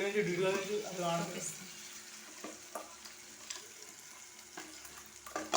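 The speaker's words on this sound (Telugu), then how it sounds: "పుంటి కూర వేసేస్తున్నా" Gongura leaves fry in a pan with chillies and garlic, loud sizzling and stirring at first, then fading to quieter crackles and occasional spatula knocks close by.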